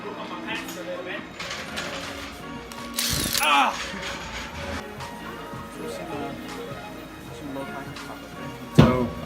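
A ratchet wrench clicks and turns while a caliper bolt is removed from a 9th-gen Honda Civic brake, with rapid ratcheting bursts, metallic clanks and a sharp knock near the end.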